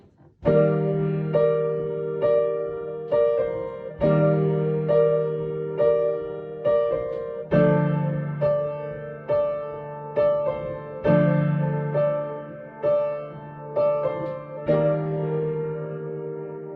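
Piano chords from a song ring out one after another, each struck firmly and left to decay, forming a slow, regular progression with no talking.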